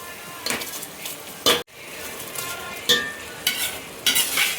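Rice tipped into hot separated oil in a pot for nei soru, crackling and sizzling in short bursts as a spoon stirs and scrapes, close by and fairly quiet, no talking.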